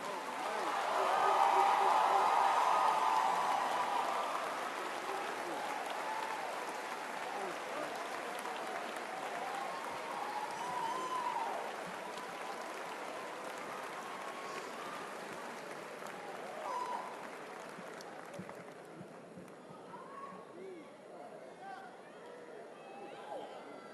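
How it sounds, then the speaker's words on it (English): Sustained applause from a large commencement audience giving a standing ovation after a bishop's speech, a dense wash of clapping that swells early, then holds steady and gradually thins toward the end. "We got to give Bishop Long another standing ovation, another round of applause"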